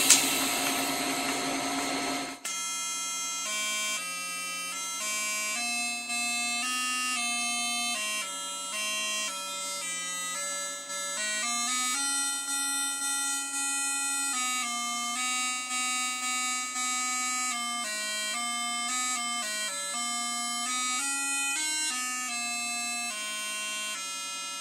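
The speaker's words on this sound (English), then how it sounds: "we have the machine set on a pulsing feature, and we can adjust the frequency to get a sound." A Fronius MagicWave 2200 AC-DC TIG welder set to pulse, its arc buzz retuned by frequency to play a melody: steady, loud sustained electric tones stepping through pitches after a brief hissing start, with no talking.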